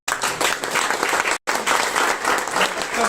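Dense applause from a large audience at a web series success meet, steady and loud throughout, broken by one brief cut to silence before the clapping resumes at full strength.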